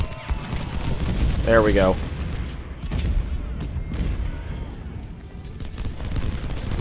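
Artillery booms roll across a Civil War battlefield in Ultimate General: Civil War, dull, heavy blasts scattered over a rumbling battle bed, with someone talking briefly.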